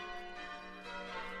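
Church bells of Croft Church near Wainfleet ringing for VE Day, a steady, sustained wash of overlapping bell tones heard faintly from a distance, with no talking.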